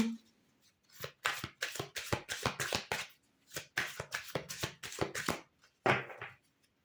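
Tarot cards are shuffled by hand in repeated riffling bursts with short pauses and a final flurry, close and crisp, with no voices.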